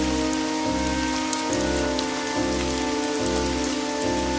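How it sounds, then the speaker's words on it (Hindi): Steady rain pours down in a continuous wash, with a low rhythmic thumping pulse repeating about once a second underneath. "अरे लगता है बाहर बारिश हो रही है।"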